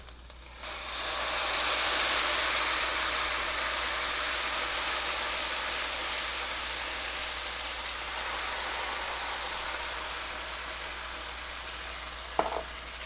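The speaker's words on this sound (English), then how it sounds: "Now we're gonna put in our petite diced tomatoes." Diced tomatoes hit a hot pan of garlic with a loud, steady sizzle and hiss that swells at once and then eases slowly, heard alone with a brief clatter near the end.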